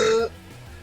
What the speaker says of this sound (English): Good burp.